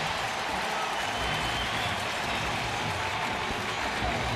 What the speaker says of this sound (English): It is a different crowd, and Buck, I think you'll agree, here in Oakland than it is maybe anywhere else in Major League Baseball